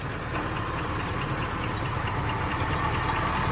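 A 1969 Buick Skylark engine runs close by, rough and uneven, with a chugging, knocking idle that pulses steadily throughout with no voices.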